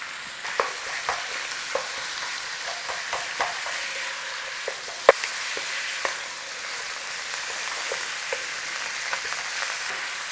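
Ground beef browning in a hot pan for a black pepper beef stir fry, a steady close sizzle broken by frequent sharp scrapes and clacks as a utensil breaks the meat apart, with no talking.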